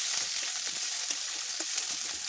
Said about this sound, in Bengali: ওই তেলের মধ্যেই আমি ক্যাপসিকাম আর পেঁয়াজ কুচিয়ে, লঙ্কা কুচিয়ে আমি একেবারেই দিয়ে দিয়েছি।